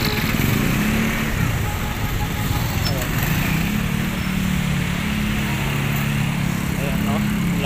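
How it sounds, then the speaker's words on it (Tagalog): A noisy motorcycle engine drones steadily on a street in Santo Tomas, Batangas, a loud continuous buzz with a shifting pitch under ongoing traffic bustle, with people talking nearby. "Napakaingay naman ang motor to"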